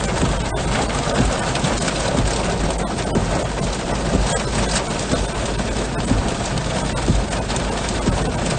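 Steady heavy rain from a slow-moving Texas storm pours continuously over a surface, a dense unbroken hiss with scattered sharper impacts, close and loud with no voices.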